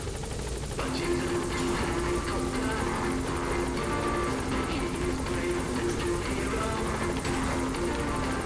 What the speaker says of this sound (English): you can always call on your attack helicopter to carpet bomb an area too